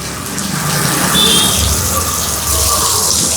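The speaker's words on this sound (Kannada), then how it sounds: "ಈ ಪೈಪ್ ಇದೆಯಲ್ವಾ ನೋಡಿ ಎಷ್ಟು ಕೊಳೆ ನೀರು ಕೊಳೆ ಕೊಳೆ ನೋಡಿ ಯಾವ ರೀತಿ ಹೋಗ್ತಾ ಇದೆ" Dirty wash water gushes steadily out of a washing machine's drain pipe, a loud continuous rush of flowing water with no talk over it.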